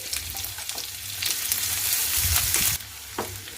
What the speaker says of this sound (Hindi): इसे भी हम तेल में डाल के गोल्डन ब्राउन होने तक इसे भून लेंगे